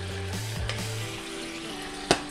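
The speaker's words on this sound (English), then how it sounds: "we're gonna add our tomato sauce" Tomato sauce goes into a pan of reducing white wine and sizzles steadily, with a soft broadband hiss, a low hum and one sharp clink near the end.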